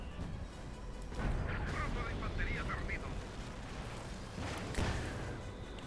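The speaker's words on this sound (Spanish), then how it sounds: "Aquí me han tirado un mortero que me ha matado los tapadores" Mortar shell striking troops in Company of Heroes 2, a dull booming impact followed by a second heavy blast a few seconds later, set against continuous rumbling battle noise.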